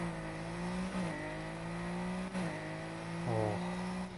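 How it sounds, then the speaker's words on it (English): A car engine in the video game Need for Speed Heat roars steadily at high revs, with brief dips and climbs as gears shift, loud and close. "But hearing that engine roar though"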